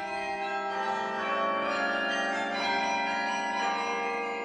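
Carillon bells of the Collégiale Saint-Vincent in Soignies ring in sustained, overlapping tones, a steady wash of bell music with no voices.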